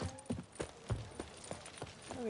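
Horse hooves clip-clop at a steady trotting rhythm in The Witcher 3: Wild Hunt, close and fairly quiet, with a faint voice in the background.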